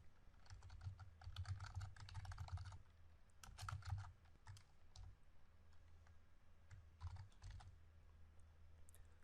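Fingers type on a computer keyboard in quick clicking bursts with short pauses between them, close and soft, with no talking.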